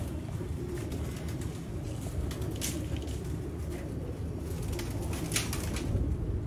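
Pigeons coo softly in a low, repeated murmur over a constant outdoor hum, with a few faint higher chirps.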